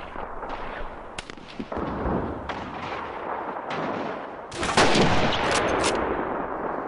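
Gunfire and heavy shots in Call of Duty 2, including a sniper rifle shot, crack out loudly in repeated bursts over a constant roar of battle, with a final stretch of dense shooting.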